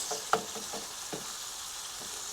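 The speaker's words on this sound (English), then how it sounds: "Oh, listen to that meat just sizzle, sizzle." Minced meat for spaghetti Bolognese browns in a pan in a camper van, giving a continuous soft sizzle and crackle with a couple of light stirring knocks.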